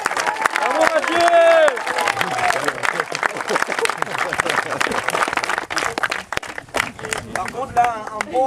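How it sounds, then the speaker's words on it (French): A crowd at a PW50 minibike grand prix race in Brissac applauds the fifth-place rider, with steady clapping and cheering mixed under an announcer's continuous talking. "je pense qu'on peut l'applaudir pour la 5e place"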